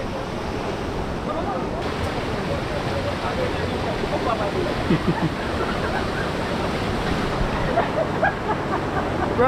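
Jamaican river rapids and a waterfall make a loud, constant rushing roar of churning water, close by, with a few voices faintly underneath during tubing and rafting.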